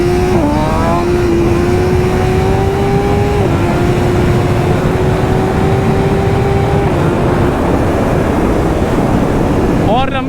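A BMW S1000RR sportbike screams through a long wheelie on the road, its engine note loud and continuous and stepping up in pitch through gear changes, with heavy wind roar throughout.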